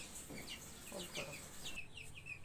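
Young desi chicks, just separated from their mother and moved to an unfamiliar place, give repeated thin, descending peeping calls. The calls are rather faint and come in quick bursts over a constant background hum.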